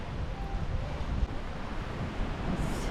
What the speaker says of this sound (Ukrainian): Зараз буду підходити до моря.